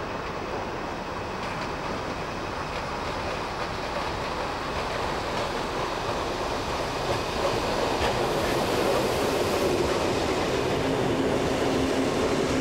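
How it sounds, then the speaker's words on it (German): Trossinger Eisenbahn glass train running along its track, a steady broad rumble of wheels on rails with faint clatter, continuous and fairly close throughout without voices. "Wenig später ist der Zug auf dem Weg."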